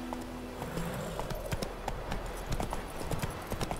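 Hooves of the horse Roach clip-clop at a steady trot in The Witcher 3 video game, a rhythmic run of muffled thuds over a low ambient bed.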